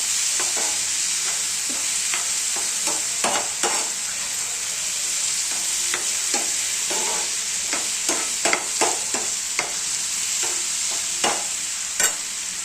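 Tomatoes simmering in a pan for chutney, a steady close frying hiss running throughout with scattered stirring taps and pops from a spoon.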